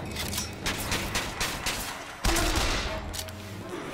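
Rapid bursts of gunfire in the video game BioShock Infinite, a run of quick shots followed by a heavier blast, close and loud over a game soundscape.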